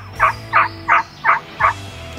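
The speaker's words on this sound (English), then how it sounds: "So me and Chase, we hear a couple birds and we get set up and put out the decoys and start doing a little calling" A wild turkey gobbling in a field during a spring hunt in Kansas: five loud, evenly spaced gobbles in quick succession, close and clear, with no talk.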